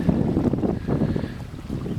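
Wind gusting across an exposed hilltop garden beside a vegetable plot, henhouse and greenhouse, heavy blustery rumble buffeting the microphone in uneven surges, loud and close with no talking.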